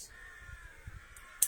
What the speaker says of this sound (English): Baby crows make a lot of noise.